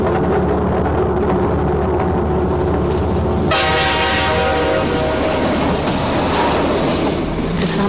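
A train roars past loudly and close at a railway crossing without barriers, with continuous rumbling and rattling wheels and a horn sounding partway through.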